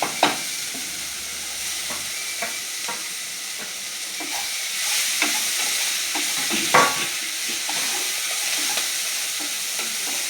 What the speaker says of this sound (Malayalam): തേങ്ങ ഒന്ന് ചെറുതായിട്ടൊന്ന് മൊരിയട്ടെ